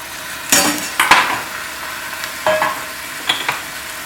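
Mutton frying in half a cup of oil with onion, a close sizzle under several distinct stirring and scraping strokes with faint clinks of a utensil against the pot.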